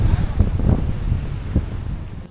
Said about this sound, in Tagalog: hindi makatao ang hangin dito sa Waterton Lake ngayon